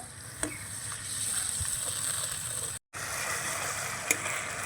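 Ground spices and ginger sizzle steadily in hot oil in a pan while cooking a ridge gourd and yogurt curry, with a continuous close frying hiss, a few faint stirring clicks and one brief dropout.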